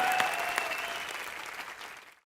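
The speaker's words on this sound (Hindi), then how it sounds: "जोरदार तालियां।" Loud studio audience applause on a Hindi television entertainment show, a dense wash of clapping that holds steady, then thins and fades out at the end.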